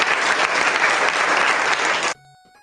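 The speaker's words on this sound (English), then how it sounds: "We always have the clapping." Dense burst of applause-style clapping played as a sound effect during a live stream about reselling, loud and continuous for about two seconds before cutting off abruptly into near silence.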